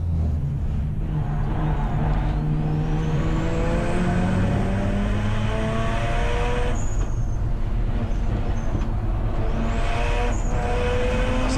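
Race cars including a Mazda RX8 and a Peugeot circuit Snetterton, their engines droning steadily with shifting pitch, a loud continuous roar with swelling passes and gear changes throughout.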